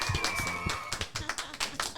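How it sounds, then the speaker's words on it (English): An audience at a festival town hall session claps in a brief, irregular burst of applause, individual hand claps distinct and fairly close. "So give yourselves a round of applause for making this your first session of the day."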